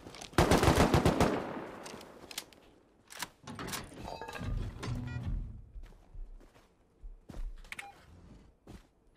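Gunfire in the Rust video game: a loud, close opening burst of rapid shots, then scattered single cracks and short volleys with mechanical clatter in between.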